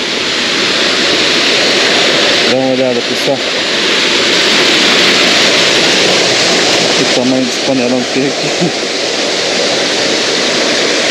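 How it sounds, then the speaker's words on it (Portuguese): A steady, loud roar of rushing water at the top of a waterfall near Arapoti, Paraná, with another river flowing below, fills the whole stretch while someone speaks over it twice. "A gente tá no topo da cachoeira e lá tá correndo outro rio já"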